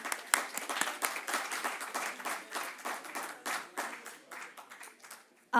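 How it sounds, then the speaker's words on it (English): Audience applause at a social business academic forum closing session, a steady patter of many hands clapping for several seconds before tapering off, with a louder burst at the very end. "So a big round of applause for everyone."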